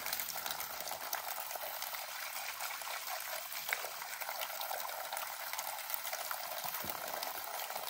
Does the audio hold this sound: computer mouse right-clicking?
no